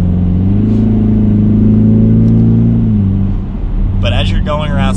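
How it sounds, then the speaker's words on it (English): A 2021 Ford Mustang EcoBoost in track mode gives a steady, close engine and exhaust drone that fades slightly near the end, followed by a brief burst of voice. "the exhaust you can hear a little bit more in the track mode like that"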